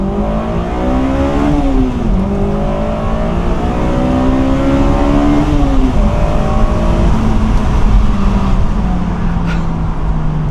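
A Honda S2000 engine revs hard, rising and falling through high rpm in close, continuous, loud sweeps that climb toward a shrill top end, with no voices present.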